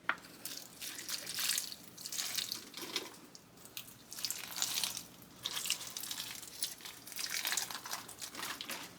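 Water pours onto potted plants such as alocasias sitting over bins of silica. A steady splashing stream rises and falls in repeated waves for several seconds.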